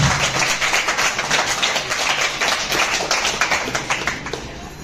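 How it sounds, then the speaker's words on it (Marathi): A crowd of women at a Raksha Bandhan celebration in a girls' hostel claps together, a dense, steady patter of many hands, moderately loud and continuous, tapering off slightly at the end. "टाळ्या वाजवताना मला ऐकायचं."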